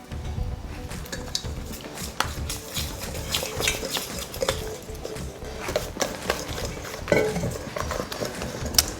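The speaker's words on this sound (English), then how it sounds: "now we're gonna mix our 2 mixtures together" Two batter mixtures with almond flour and cocoa are stirred together in a bowl, giving close, irregular scraping and soft tapping of a utensil against the sides, steady for about nine seconds.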